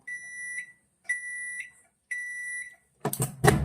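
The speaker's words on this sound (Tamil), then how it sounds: "இது டைம் முடிஞ்சதுக்கப்புறமா உங்களுக்கு வந்து ஒரு பீப் சவுண்ட் வந்து உங்களுக்கு கொடுக்கும்" A kitchen appliance beeps as its cooking timer finishes after rice is cooked: three clear, sustained electronic tones with short gaps, followed by two brief clunks near the end.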